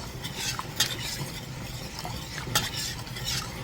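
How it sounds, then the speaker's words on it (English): Spoon stirring 4.5 cups of sugar in a pot for honeysuckle jelly, a steady close scraping swirl with two sharper clinks against the pot, no talking. "We are going to constantly stir this until it comes to a roiling boil."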